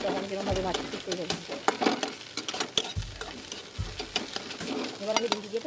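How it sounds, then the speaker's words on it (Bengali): Crumbled egg bhujia fries in a pan while a spatula stirs and clinks against the metal, giving a busy sizzle with repeated scrapes and taps. A voice talks over it. "আমি যেরকমভাবে ভাজছি ঠিক সেইভাবে।"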